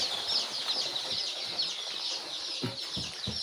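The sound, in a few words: local chicken chicks peeping at poultry farm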